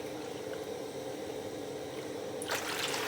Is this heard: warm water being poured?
yes